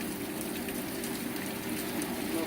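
Heavy monsoon-like rain pours down in a steady, dense hiss of drops with no pauses, alone and fairly loud throughout.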